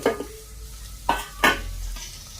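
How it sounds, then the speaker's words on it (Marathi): Cumin seeds crackling in hot oil with spices, a soft steady sizzle broken by a few sharp spoon-and-pan clatters, close by. "जिरेने हे थोडं तडतडू देते बरं का"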